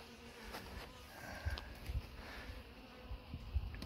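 Honeybees at a hive in a forest apiary give a low, steady, faint hum that holds throughout, with small swells but no distinct breaks.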